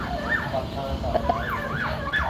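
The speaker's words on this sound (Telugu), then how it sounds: "ఏ సైరన్ వేసుకొని పోతున్నాడు చూడు" A wailing siren rises and falls repeatedly, fairly loud and close over a low rumble of traffic.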